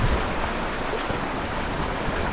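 A tiny waterfall pours down onto rocks in a mountain gulch, giving a steady, close rushing wash of water that holds even and unbroken throughout with no voices.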